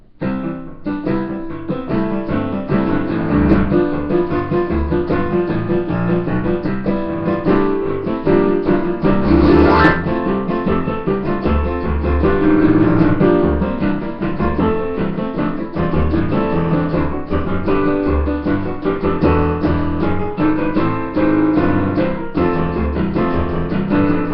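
Solo piano plays a flowing, busy passage for over twenty seconds, with full chords and moving melody at a steady, lively volume, no talking.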